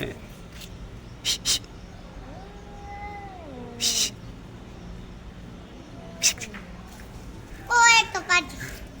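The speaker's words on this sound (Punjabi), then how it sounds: "ਇੱਕ ਤੁਹਾਨੂੰ ਯੁੱਧ ਦਿਖਾਉਣਾ ਹੈ ਗਾਇਸ ਇੱਧਰ ਵੇਖੋ ਯੁੱਧ ਹੁੰਦੇ ਆ ਬਿੱਲੀਆਂ ਦਾ" Two cats fight outdoors with drawn-out yowls and caterwauls, plus a few sharp, hissing bursts, fairly near. A person's voice breaks in now and then.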